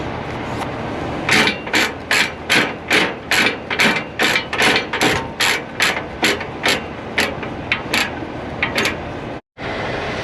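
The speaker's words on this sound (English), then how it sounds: "let's tighten this strap" A ratchet strap on a car hauler being cranked tight, a long run of loud, evenly spaced metallic ratchet clacks, about twenty strokes in steady rhythm, close up against constant outdoor background noise.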